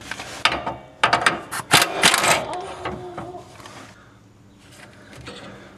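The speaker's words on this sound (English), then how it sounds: "Right now I'm going to go ahead and take this big bolt right here off and drop this whole pulley mechanism" A ratchet wrench clicks in quick bursts while loosening a 24 mm pulley bolt under a John Deere X570 riding mower, with close metallic clanks that fade into quieter handling.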